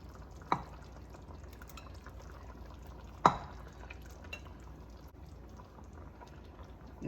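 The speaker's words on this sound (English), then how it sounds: "So I'm going to add the already cooked pasta" Already cooked pasta is stirred into a seafood sauce in a pan off the heat, giving a soft wet sizzle and slosh throughout, with two sharper clinks of a utensil against the pan.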